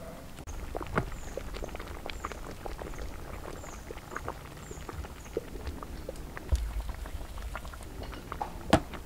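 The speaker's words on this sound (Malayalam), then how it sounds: "നമ്മുടെ പോത്തുങ്കാൽ ഇത് അവിടെ ഇരുന്ന് തിളച്ചുകൊണ്ടിരിക്കുന്നു" A pot of beef leg simmers and bubbles quietly, soft irregular pops and gurgles over a low steady background, with no talking.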